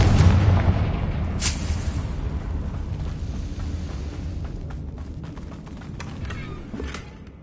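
A blasting-spell explosion in the Hogwarts Legacy video game: a heavy boom at the start, then a long rumbling decay with crackling debris and a few sharp pops trailing off.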